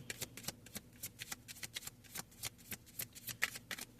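Tarot cards being shuffled in quick riffling bursts, a steady run of papery flicks and slaps repeating close up with no voices.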